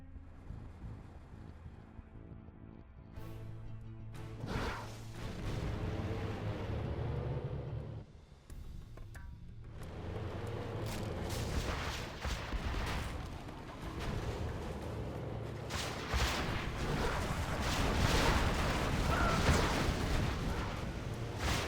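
Aurora bomber strikes pounding a base in Generals Zero Hour on a snowy map, a dense, loud stretch of booming explosions and rumbling blasts layered over continuous battle noise, with no pause in the barrage.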